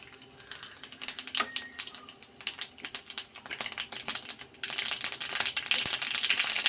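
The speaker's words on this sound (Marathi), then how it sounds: "राई जिरे आपले तडतडायला लागले" Mustard and cumin seeds splutter in hot oil for a Kolhapuri chana dal tempering, a quick irregular crackle of small pops that grows busier and denser toward the end.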